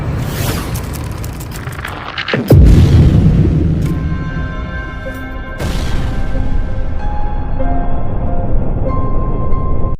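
The atomic bomb explodes over Hiroshima: a sudden loud deep boom follows a quieter stretch, then a long rumbling roar with a second surge partway through.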